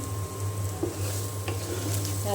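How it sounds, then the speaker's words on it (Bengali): Dried chillies and onion fry in mustard oil in a pan, giving a steady close sizzle with a few soft stirring clinks over a low background hum. "শুকনা মরিচ আর পেঁয়াজ সরিষার তেল দিয়ে ভেজে নিচ্ছি"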